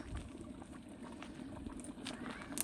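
Saag (mustard greens) cooking in a smoky pot makes a low, steady bubbling simmer with soft liquid gurgles, fairly faint and continuous, with no voices over it.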